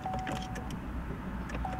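Car power windows run with a thin, steady motor whine that starts, pauses, then returns briefly, close and clear over faint clicks.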